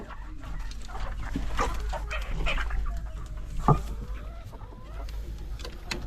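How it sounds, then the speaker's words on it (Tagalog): Chickens, among them a Rhode Island hen, cluck and murmur nearby in a coop, with scattered short calls and one sharper squawk over a low steady background hum. "parang matamlay na naman yung mga manok ko, pati itong isang Rhode Island"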